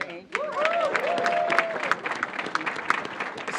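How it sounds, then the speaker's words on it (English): Applause from the audience at a New York governor's housing budget announcement, a steady wash of clapping under a voice heard in the room. "I want to give you another round of applause"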